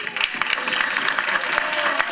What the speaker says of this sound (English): let's give a warm round of applause to Juan Hernandez